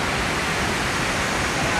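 Pinsal Falls in Santa Maria, Ilocos Sur, roars as a steady, broadband rush of falling water, loud and close, unbroken throughout the short stretch.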